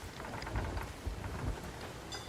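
Thunderstorm at sea in the video game Sea of Thieves: steady heavy rain hiss with low rolling thunder rumbles swelling and fading, fairly quiet, no talking.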